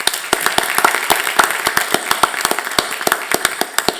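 Applause at a school board meeting: a small audience clapping in sparse, uneven claps, each one sharp and distinct, close by and moderately loud throughout.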